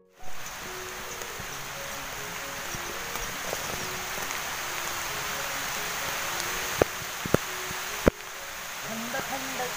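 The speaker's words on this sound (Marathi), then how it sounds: "आला आला पाऊस आला पाऊस आला." First monsoon rain on a farm during turmeric planting, a steady close hiss of drops with a few sharper pattering ticks near the end, while voices talk faintly in the background.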